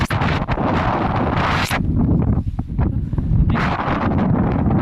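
Strong wind buffets the microphone in loud, roaring gusts that briefly ease before surging again.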